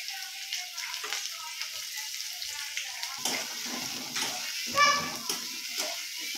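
Onion sizzles and fries steadily in a wok with bay leaf and cinnamon, making a soft continuous crackling hiss as the base for chicken curry, with a person talking over the cooking.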